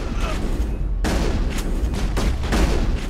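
Gunfire in the Mass Effect video game, with a sniper in the fight: a loud sharp shot breaks in, followed by several more cracking shots at uneven intervals over a dense low rumble of battle, without talk.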